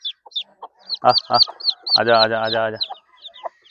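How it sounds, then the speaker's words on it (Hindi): Hens and a rooster clucking on a livestock farm in Pakistan, with short clucks followed by a longer drawn-out call, close and loud, and a person calling to the birds between them. "मुर्गे ने फिर मुर्गी के पीछे आ जाना है, मुर्गी अपने बच्चों के पीछे आ रही है।"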